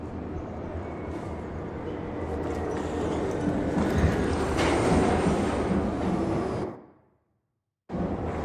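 A train in the ARC Raiders video game rumbles steadily with a broad, loud roar and swelling intensity, then cuts to sudden silence for about a second before the rumble returns.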